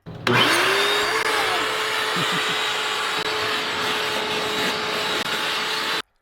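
A vacuum cleaner starts up and runs on the floor of a used Mercedes Sprinter van, a loud steady whine with a constant hum, brief scraping rubs along the floor, then cuts off.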